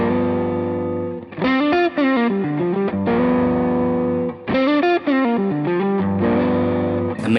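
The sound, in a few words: electric guitar through Grammatico GSG100 amp model, Line6 Helix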